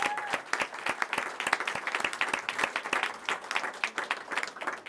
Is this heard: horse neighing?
no